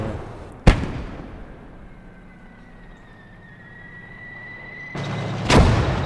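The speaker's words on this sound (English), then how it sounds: "I'm blown up by a field gun that is sitting to the back of the location there." A field gun shell explodes in Call to Arms: Gate of Hell, with a sharp, loud blast followed by a low rumbling tail and a whine. A second heavy explosion hits near the end.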